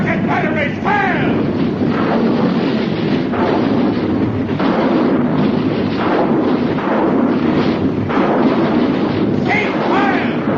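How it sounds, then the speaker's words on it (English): Artillery and rocket batteries fire in a radio drama, a loud, continuous roar of overlapping booms and rumbling blasts with a few sharp whistling streaks, sustained for the full stretch without any clear pause. "Artillery batteries fire! Rocket batteries fire!"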